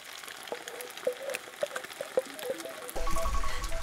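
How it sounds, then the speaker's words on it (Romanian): Pasta sizzles softly in a pan over a camping stove flame at an overnight campsite in Romania, with small crackles and pops before the stove's low roar swells near the end. "am mutat înapoi pastele pe flacăra noastră magică, mare și normală"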